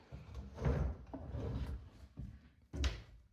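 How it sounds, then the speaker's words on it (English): Wooden drawers in a mobile home pulled out and soft-closed, a series of close, rubbing slides and soft thuds in a few separate bursts, with no talk. "I love the drawers that pull out because that's what you need"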